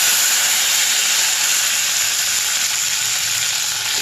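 Moringa drumstick pieces frying in a spiced oil tempering make a loud, continuous, hissing sizzle that stays steady and close throughout, with no talk.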